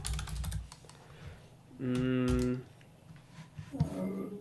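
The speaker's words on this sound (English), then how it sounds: "So I will just type here SAGA log" Keys on a computer keyboard clatter in quick bursts of typing, close and crisp, broken by a short hum-like tonal sound in the middle.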